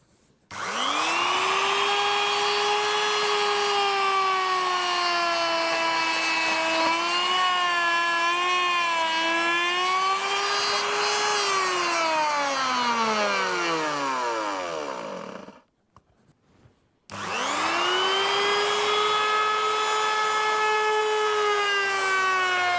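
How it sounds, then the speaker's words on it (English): A small router whines steadily as it trims a Telecaster guitar body, its pitch sagging and then sliding down as the motor spins off. A brief gap follows before the router starts up again at full, loud speed. "we can break out the little router and just do those two little bits that need sorting out"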